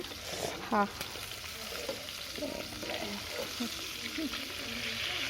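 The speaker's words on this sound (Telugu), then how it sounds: "ఇదైతే మెల్లమెల్ల మంట కొంచెం తక్కువ పెట్టుకొని ఫ్రై చేస్తున్నా" Food frying slowly over a low flame in a pan on a wood-fired stove, a steady close sizzle with a few scraping stirs, and faint voices in the background.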